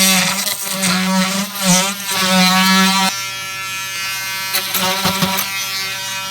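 A power tool cutting off the last broken piece of a rotten deck board, a loud, close buzzing whine that rises and dips under load for three seconds, then settles into a steadier lower drone with brief bursts.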